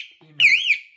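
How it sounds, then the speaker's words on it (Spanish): A Zipato wired house alarm sounds once as it is armed, a short warbling electronic tone lasting about a third of a second after a faint low hum. "armo la alarma"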